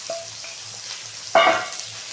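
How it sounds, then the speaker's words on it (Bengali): Onion, garlic and ground spices fry in a pan of oil for chicken curry, giving a steady close sizzle that swells into a louder, brighter hiss partway through, as if something was just stirred or added. "মশলা থেকে যতক্ষণ না তেল ছাড়বে আমি ততক্ষণ কষিয়ে যাব"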